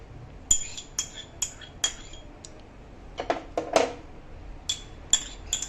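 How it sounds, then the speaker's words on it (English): A spoon mixes onion, capsicum and carrot into paneer in a bowl, producing a run of sharp metallic clinks and taps against the dish with brief scraping in between, close and clear. "we will mix onion, capsicum, carrot into the paneer"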